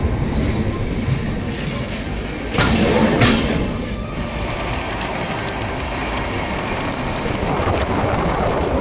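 The Howrah–Bikaner train running after leaving Jaipur, heard as a continuous close rumble of rolling wagons with wind noise, a louder surge around the third second, and no speech.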